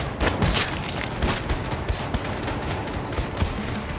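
Dense, loud gunfire from a firefight in the video game Wolfenstein II: The New Colossus, with repeated overlapping shots and booms that run continuously through the whole stretch.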